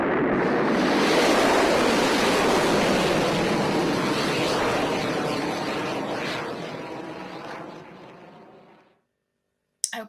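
A played recording of a rocket launch after ignition gives a broad, loud roaring rush that fades steadily away over several seconds into silence, ending with a brief click.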